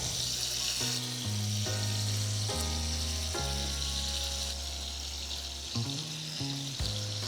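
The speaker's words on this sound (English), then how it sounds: "We're gonna let the meat get very brown on all sides." Beef chunks browning for beef bourguignon sizzle and crackle steadily in a hot pan, close and constant beneath a bed of sustained background music.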